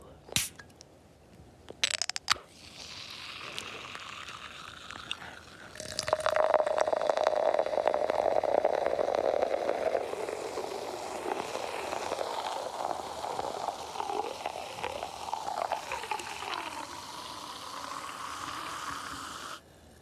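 A few clinks and a can opening, then cola pours steadily into a glass, with a long fizzing, crackling hiss of bubbles that slowly settles.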